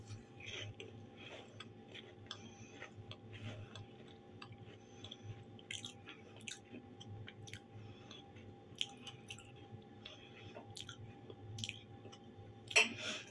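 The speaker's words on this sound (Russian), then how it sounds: "свежайший крекер. Блин, как он хрустит" Close mouth sounds of someone chewing a fresh crunchy cracker: soft repeated crunches and wet chewing clicks over a low background hum.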